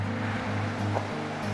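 Reed Creek flows steadily at the bottom of a long downhill switchback on a hiking trail, a constant close rush of moving water with no voices.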